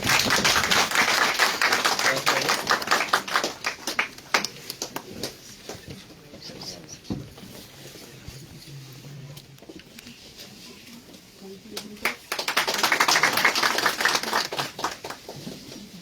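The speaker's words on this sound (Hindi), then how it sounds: "और आप सभी से आग्रह तालियों के लिए रहेगा।" An audience claps at a farewell party for the Kullu deputy commissioner, with a dense burst of applause at the start, a quieter stretch with scattered claps and murmuring voices, then a second strong round near the end.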